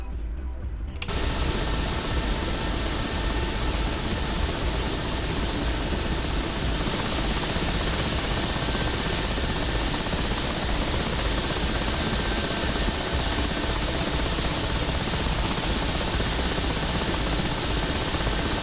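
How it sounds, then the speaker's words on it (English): Helicopter flight in a video game: a steady, dense rotor and engine roar that starts suddenly and holds loud and constant throughout, with no talking. "I love flying helicopters"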